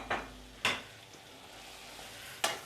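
Boiled dal being stirred with spices in a pan, heard as three sharp spoon scrapes against the pan spaced apart over a faint sizzle.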